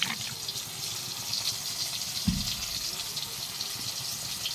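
Water poured onto cumin and coriander powder, a short splash and trickle into the bowl against a low background hiss.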